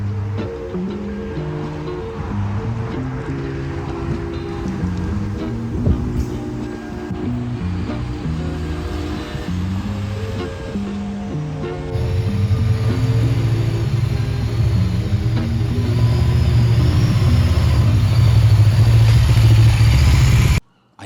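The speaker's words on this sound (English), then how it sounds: "And behind me is Suffolk's Friday afternoon traffic." Friday afternoon road traffic in Suffolk makes a continuous roar of passing vehicles with engine hum, steady for the first half and then louder and denser before cutting off abruptly.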